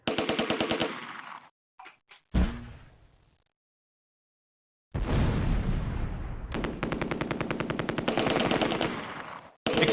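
Bursts of rapid machine gun fire with heavy mortar blasts in the Close Combat war game, loud sustained rattling volleys broken by a few seconds of silence before firing resumes.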